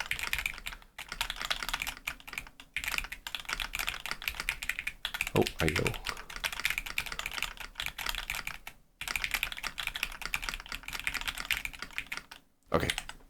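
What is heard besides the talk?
typing on a computer keyboard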